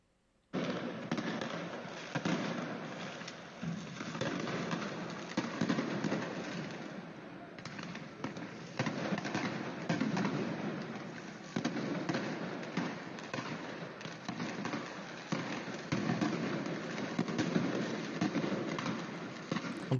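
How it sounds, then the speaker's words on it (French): Fireworks set off in an attack on a police station in La Courneuve, a long barrage of rapid crackling bangs and pops that runs loud and nearly continuous, with birds cooing. "En tout cas, ils ont des réserves de feux d'artifice"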